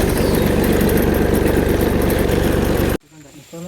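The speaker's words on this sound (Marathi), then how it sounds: "ह्याचं काय परफेक्ट न्यूट्रल झाल्याशिवाय ट्रॅक्टर चालू होत नाही." A farm tractor fitted with a blower runs at a steady idle, a loud, close, rough engine drone with fast regular firing pulses that cuts off abruptly near the end, leaving faint background noise.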